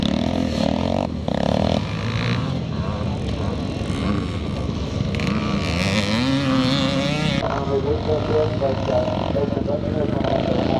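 Yamaha YZ 490 motorcycle racing on a classic scramble track, engine roaring continuously with rising and falling revs, loud and near, while a voice talks over it.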